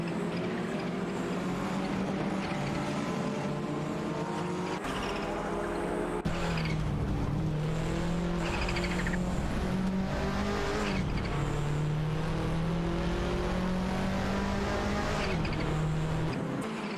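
Porsche 968 Turbo RS and Toyota Celica race cars in a racing video game, engines droning steadily with rising and falling pitch as gears shift, tire squeal and skids layered over a continuous loud roar with no talking.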